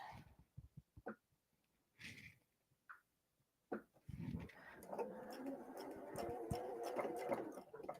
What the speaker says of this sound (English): Just sew that in place.